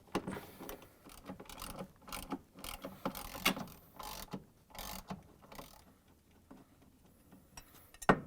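Ratchet socket wrench clicking in quick bursts while removing 10mm bolts from the washer bracket of an LG/Kenmore washer clutch assembly, close and fairly quiet with short pauses between runs of ticks.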